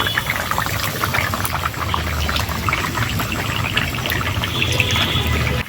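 A small amount of water bubbles steadily in a pot with vegetables for tamarind fish curry, a continuous close, loud simmering hiss with gentle gurgles throughout.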